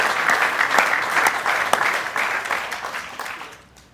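A press conference audience in Kailua-Kona applauds before the 2024 Ironman Hawaii race, a dense, steady wash of clapping that holds for several seconds and then thins and fades at the end.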